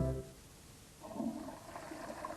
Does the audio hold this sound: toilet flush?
yes